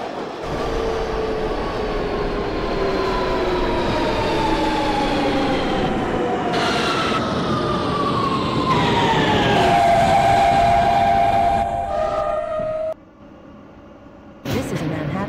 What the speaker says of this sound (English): This is a Manhattan-bound T local train.